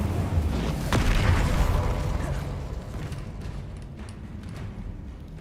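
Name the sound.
Incendio fire spell cast, Hogwarts Legacy video game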